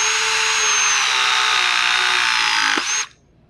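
A Viega press tool crimping a copper nickel pipe fitting, a steady close motor whine that holds for about three seconds before a faint click and abrupt stop.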